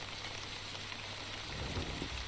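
Soft, steady rain hisses from a storm cloud in The Wandering Village game, a faint, even wash of falling drops with no voices.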